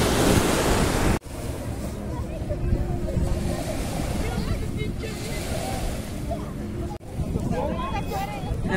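Surf washing onto a beach in Dubai, a steady broadband wash of waves with wind buffeting the microphone, fairly loud and continuous throughout, with brief dropouts and some talk in the background.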